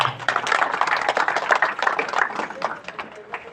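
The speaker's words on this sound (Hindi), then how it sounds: "इसलिए सबसे पहले अपने गांव के लिए एक बार जोरदार ताली होनी चाहिए।" Villagers at an Ambedkar Jayanti gathering applaud loudly in a dense run of handclaps that fades toward the end, with a voice heard over the clapping.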